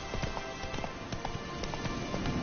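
Rapid hoofbeats of Roach, a horse in The Witcher III game, clip-clopping steadily under a constant rumbling game backdrop, with no voices over them.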